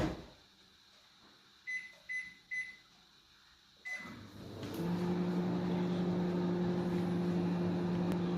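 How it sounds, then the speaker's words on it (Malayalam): A microwave oven cooking upma: a few short beeps as it is set, a door or button clunk, then a steady low mechanical hum of the running oven that continues to the end, moderately loud and close. "ഓവനിലേക്ക് ഒരു 3 മിനിറ്റ് നേരത്തേക്ക് നമുക്ക് കൊടുക്കാം."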